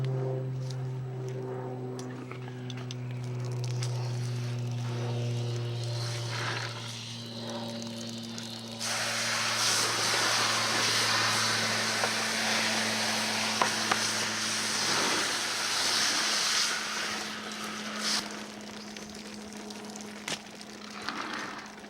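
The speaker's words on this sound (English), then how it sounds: "I'm going to get the hose and clean it off a little." Garden hose spraying water onto a bonsai: a loud, steady broadband hiss lasting roughly nine seconds, rising over and then falling back to a constant low mechanical hum.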